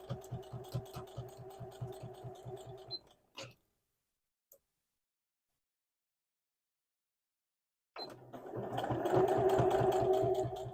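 A sewing machine stitches stretched elastic onto a knit shirt, a close rhythmic whirring chatter that stops for several seconds of silence and then starts again, louder and steadier.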